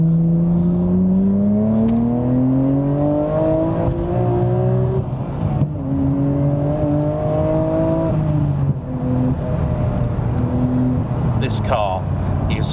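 A Bayside Blue 1999 Nissan Skyline R34 GT-R V-Spec drives along a road, its engine note rising and falling through gear changes with strong harmonic whine, loud and close, while a person talks over it.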